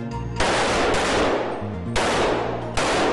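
Police fire at a firing range in rapid, continuous volleys, loud and close, with gunshots overlapping into sustained bursts and no talk.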